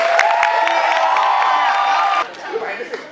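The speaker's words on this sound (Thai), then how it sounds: "ขอเสียงปรบมือให้กับ พี่โขงก้องเกียรติของสิริ" Audience at an arts awards ceremony applauding and cheering in a dense, loud wash of clapping and shouts that stops abruptly, followed by quieter room sound with a voice.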